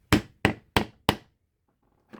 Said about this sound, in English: And I'm going to hammer it